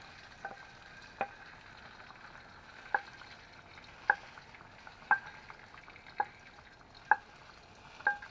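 Bacon sizzles in a frying pan while being cooked for potato soup: a steady, quiet frying hiss broken by sharp scraping or stirring clicks roughly once a second.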